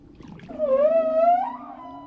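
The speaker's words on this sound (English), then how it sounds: "Diving this close to a singing whale is an extraordinary experience." A male humpback whale sings underwater, heard up close as a single strong, rich moaning call that rises and slides in pitch over about a second, loud and clear against a quiet sea.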